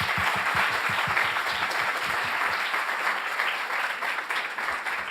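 Audience applause at the close of a film festival show and Q&A, a dense steady wash of many hands clapping throughout, loud and sustained, with some low thumps early on.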